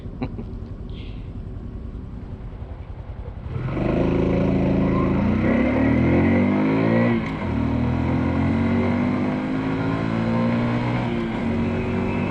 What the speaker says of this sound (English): So there's pretty much a full acceleration test, full throttle, wide open, running at almost a red line.